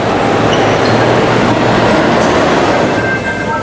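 A Singapore MRT metro train runs loud and close, with a steady rumble and clickety-clack of wheels on track. A faint wheel squeal rises near the end.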